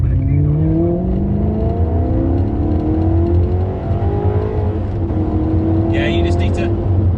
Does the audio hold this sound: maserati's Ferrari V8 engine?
yes